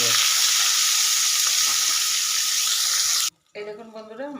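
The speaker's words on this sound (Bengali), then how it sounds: "মাছগুলোকে ভেজে নেব।" Pieces of a large fish sizzle loudly and steadily in hot oil in a kadai for about three seconds. The sound then cuts off abruptly, and a voice speaks briefly.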